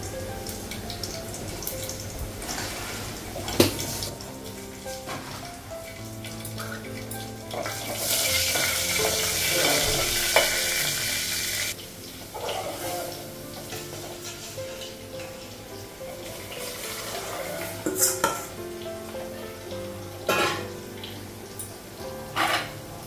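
Potatoes fry in a pan tempered with dried red chillies and five-spice, giving a steady close sizzle with stirring scrapes and clicks and a louder burst of spitting partway through.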